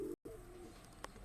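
A pigeon coos softly in a loft of high-flying breeding pigeons, a low, faint throaty murmur broken by a brief gap, with a small click near the end and no talk.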